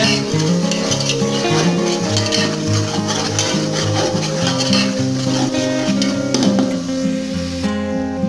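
Green chilies, some chopped and some whole, stirred in a hot pan, steady sizzling and scraping under continuous background music, close and fairly loud throughout.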